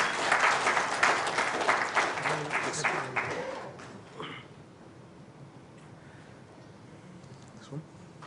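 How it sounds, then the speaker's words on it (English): Audience applause at a corporate address event, loud and dense for the first four seconds, then fading into quiet room tone with a faint stray sound near the end. "Let's welcome them with a huge round of applause."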